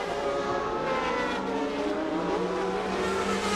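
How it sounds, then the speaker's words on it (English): Sportscar entering the pit lane during a 2001 FIA Sportscar Championship round at Magny-Cours, heard as a steady engine drone with a wavering pitch that holds a continuous level throughout. "as into the pit lane comes Jean-Marc Gounon now"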